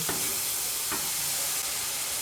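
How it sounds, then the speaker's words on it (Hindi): Ground spice masala with salt, dry coriander powder and white cumin powder stirred in a hot pan for a bitter gourd and lentil dish, giving a steady soft sizzle with a few light scraping strokes throughout. "तो एक दफ़ा इसको अच्छी तरह मिक्स करके"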